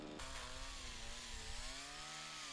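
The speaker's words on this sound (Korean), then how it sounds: "전기톱을 이용하지만 높은 곳에서 이루어지는 작업인 만큼 결코 쉬운 일은 아니다" An electric chainsaw cuts branches while pruning tall plane trees along a street from an aerial ladder truck, giving a steady, continuous buzzing whine that holds throughout at moderate loudness.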